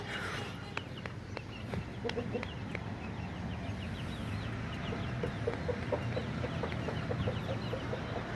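A flock of adult hens clucks in quick, repeated bursts at close range over a steady farmyard background hum, with no one speaking.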